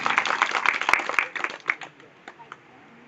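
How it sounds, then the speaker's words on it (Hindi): A crowd claps at a village political meeting about the Gadariya community. Dense, loud applause lasts just over a second, then thins into a few scattered claps that fade out. "मैं चाहूंगा कि एक बार आप लोग अपने लिए जोरदार ताली बजा लीजिए"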